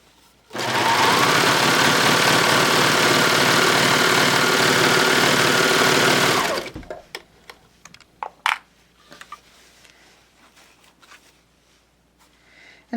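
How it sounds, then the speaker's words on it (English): A serger sews along the edge of an infinity scarf in one loud, continuous six-second run at high speed, then stops, followed by quiet handling clicks and taps. "I'm simply going to start by serging, starting one side and going all the way to the other"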